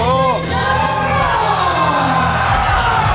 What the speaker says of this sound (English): The crowd goes wild for Bison!